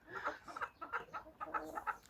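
Mechelen cuckoo chickens, a meat-and-egg breed, clucking in a quick series of short soft calls close by, faint and continuous.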